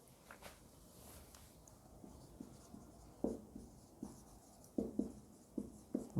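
A lecturer writing on a board during a lecture, a series of soft taps and scratchy strokes in an irregular rhythm, close and quiet against a faint room background with no talking.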